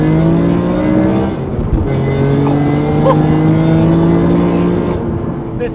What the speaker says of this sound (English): This is honestly one of the most staggeringly good engine sound you will ever hear